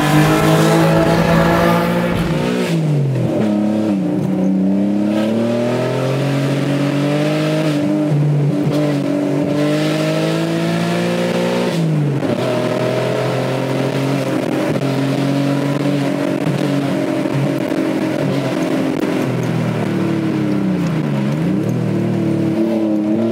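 An Alfa Romeo GT with a 3.2 V6 Busso engine drives hard along a winding road, its exhaust rising and falling through repeated revs and gear changes, loud and close with no voices.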